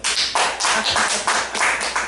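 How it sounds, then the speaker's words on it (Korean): Church congregation applauding during a Sunday sermon, a dense burst of many hands clapping in uneven rhythm, loud and close, filling the whole moment without talk. "박수 한번 쳐주세요"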